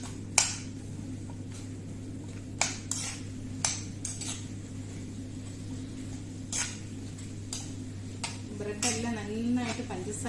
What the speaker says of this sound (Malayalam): നമുക്കിത് നന്നായിട്ടൊന്ന് ഇളക്കി കൊടുക്കാം.